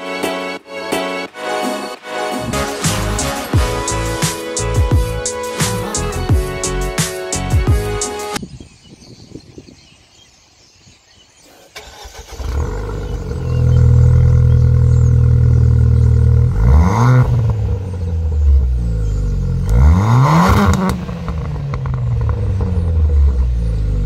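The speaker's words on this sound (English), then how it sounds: "I decided to go with the Mountune exhaust." A car fitted with a Mountune aftermarket exhaust starts with a loud cranking burst, falls briefly quiet, then roars into deep rumbling idle and sharp repeated revs that rise and fall, close and loud.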